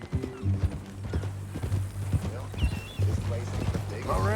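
Horse hooves clip-clop at a steady walking pace in the Western video game Red Dead Redemption, moderately close, with a voice talking over them and a brief whinny near the end.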